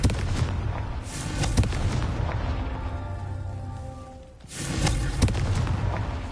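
Booming blasts from the Confringo fire spell in the video game Hogwarts Legacy, with loud, rumbling bursts that swell repeatedly, dip into a brief lull, then erupt again.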